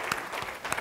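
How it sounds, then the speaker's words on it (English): Audience applause at a software conference lightning-talk session, a brief, fairly soft patter of clapping from a seated crowd. "just a round of applause"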